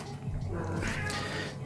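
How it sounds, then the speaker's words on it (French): A pet cat meowing indoors, one drawn-out faint cry rising out of a low room hum, heard on its own with no talk. "Il y a mon chat qui miaule, désolé."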